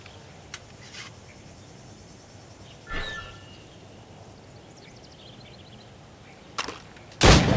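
Gunshots ring out during target practice in Assassin's Creed Rogue Remastered, set in 18th-century North America. A few sparse, sharp reports are spaced seconds apart over a faint hissing ambience, with a louder blast at the end.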